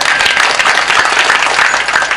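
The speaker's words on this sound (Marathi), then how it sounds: "वा वा टाळ्या वाजवा एकदा." A crowd claps together at a kirtan gathering, a dense, loud and continuous burst of applause that lasts a couple of seconds.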